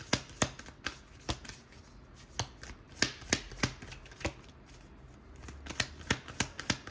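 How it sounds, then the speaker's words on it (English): Tarot cards shuffled and riffled from a deck, a steady series of crisp, close flicking snaps at a brisk, fairly regular pace, with no voices. "Let's get one more card for the solution, please, Spirit."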